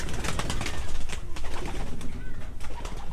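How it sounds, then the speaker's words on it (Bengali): Desi pigeons in a loft fill the air with close, layered cooing and rustling, a dense and constant flock sound with no pauses. "এই যে এখানে দেশি কবুতর পালন করা হচ্ছে।"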